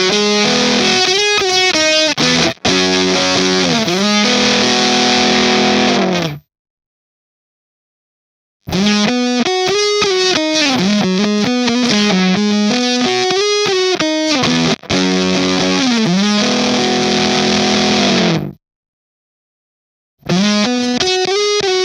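Electric guitar through a Fuzz Factory fuzz pedal, its middle switch changing the sound character: loud, heavily distorted fuzzy phrases with sliding notes, broken by two short silent gaps between passages.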